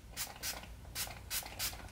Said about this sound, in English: I take my brush cleaner and just like an old rag, I spray this sponge